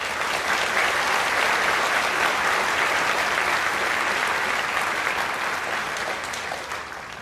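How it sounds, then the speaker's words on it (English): Sustained applause from a high school graduation audience honoring Southern Nash High School teachers and staff, dense and steady throughout before tapering slightly at the end. "Let's give them a round of applause"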